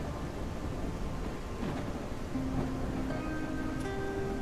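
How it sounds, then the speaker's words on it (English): Steady rain hiss with a low rumble of thunder in the video game Whiskerwood, continuous and moderately loud, with a brief soft tone overlaid near the end. "And we've got rain."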